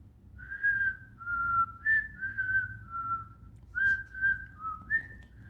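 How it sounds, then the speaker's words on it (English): A melodic tune whistled alone, a string of clear sustained notes with short pauses between phrases, fairly close and steady in loudness. "He whistled all the way there, and he whistled all the way home."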